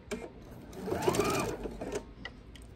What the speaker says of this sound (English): And I'm going to sew off diagonally